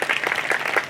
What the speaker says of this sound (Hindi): भजन चलत रही तक कौन कौन ताली बजाते होती मन एक बार जोरदार ताली